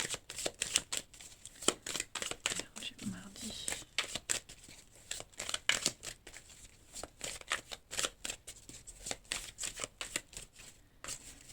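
Tarot-style cards shuffled for a card reading, a rapid series of crisp riffling flutters and slaps repeating steadily and close throughout, with no talking.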